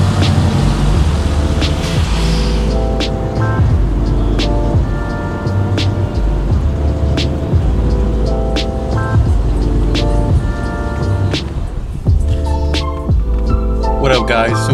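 Cars idling and revving at a nighttime car meet in Glendora, Velosters and 350Zs among some 35 vehicles, giving a loud continuous engine rumble with rhythmic mechanical clicks and tonal whines throughout.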